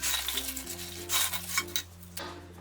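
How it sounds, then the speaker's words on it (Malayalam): Fried diamond cuts, a sweet snack, being stirred and tossed into sugar syrup in a pan, with repeated scraping and clinking strokes over a soft sizzle, close and alone. "പഞ്ചസാര പാവ് എല്ലാ ഡയമണ്ട്സിലും വരത്തക്ക രീതിയിൽ നമ്മളിതൊന്ന് മിക്സ് ചെയ്ത് കൊടുക്കണം"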